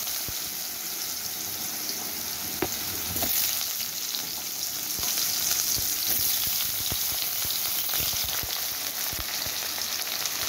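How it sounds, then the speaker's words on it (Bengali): Steady frying sizzle of potatoes and cumin in hot oil, with occasional stirring scrapes and pops, no voices. "জিরেটা ভাজা হলে আমি আলুটাকে দিয়ে দেবো।"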